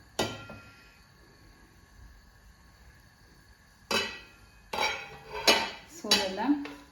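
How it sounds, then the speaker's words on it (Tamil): A lid lifted off a pot of prawn biryani in a home kitchen, with a quiet pause and then a run of close metallic clanks and scrapes of pot, lid and utensils. "நான் இப்போ ஓப்பன் பண்ணி பார்க்க போகிறேன்."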